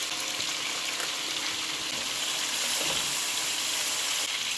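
Water poured into ground biryani masala in a pot for a yogurt chicken biryani, a steady close hiss and gush of liquid over faint sizzling that runs evenly for several seconds without talk.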